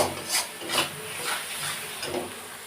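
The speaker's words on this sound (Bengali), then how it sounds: "তো মশলাটা আরো কিছুক্ষণ কষিয়ে নেব।" Spice paste for a meat curry, loosened with a little water, is sautéed in a pan, with repeated rasping scrapes of a spatula at an uneven rhythm over a faint background hiss.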